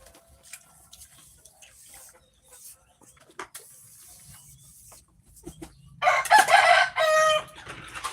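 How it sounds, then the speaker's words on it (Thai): A village rooster in rural Buriram, Thailand, crows loudly and close by near the end, giving two strong bursts after a quiet stretch of faint farmyard sounds. "ขันอะไรตะวันขึ้นแล้วนี่"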